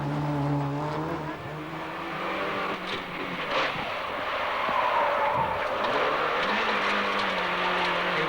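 Onboard engine of Eriksson's Peugeot 309 GTI rally car on an opening stage of the 1990 Cartel Rally, a steady loud drone with shifting pitch and gear changes, close and continuous throughout with no talk.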